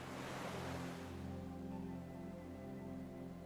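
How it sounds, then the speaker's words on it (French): Regular ocean waves washing onto a beach, a broad steady surf wash that is loudest at first and then eases, with a low continuous hum running underneath and no voices. "Écoutez le bruit régulier des vagues qui accompagnent chacun de vos pas."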